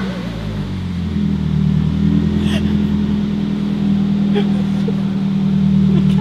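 A straight-piped Suzuki SX4 rallycross car engine runs loud and near with a deep, steady droning exhaust for several seconds, while voices are heard over it.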